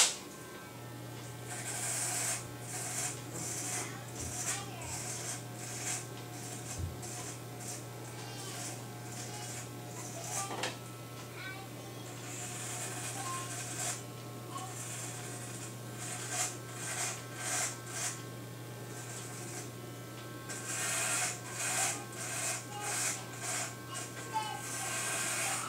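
Electric hair clippers at the zero setting buzz steadily while shaving a head short, a continuous close hum with shifting scraping texture as the blade moves around, a voice talking over it throughout.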